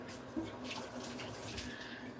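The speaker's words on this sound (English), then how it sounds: "Let me run hot water over my hand." Hot water runs steadily from a kitchen tap over a hand while fish is being cleaned, a continuous close splashing hiss with a few small fluctuations.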